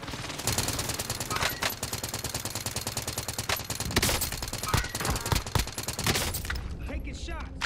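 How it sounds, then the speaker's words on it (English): Rapid automatic gunfire from Call of Duty: Modern Warfare crackles almost nonstop in dense bursts, loud and close, with players talking over the shooting. "Taking shots."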